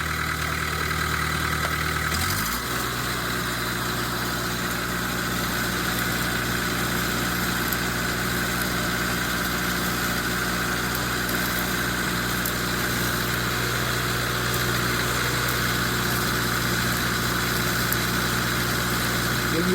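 Stick arc welding of a stainless steel hard-surface bead, a steady close crackling hiss with a constant low hum running unbroken under it after a brief start.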